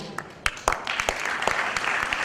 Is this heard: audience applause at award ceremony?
yes